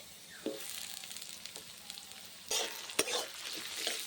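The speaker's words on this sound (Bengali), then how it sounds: "পেঁয়াজ আর রসুনটাকে একটু ভেজে নেব লাল করা যাবে না" Chopped onion and garlic frying lightly in a pan for a chicken stew, a soft continuous sizzle broken by several scraping stirs and a sharp knock, heard close with no talking.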